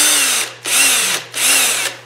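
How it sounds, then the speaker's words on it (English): Three short bursts from a power drill boring into soft white wood, each whine rising and cutting off with brief pauses between, loud and close with no talk. "it's soft enough where you can drill it really easy"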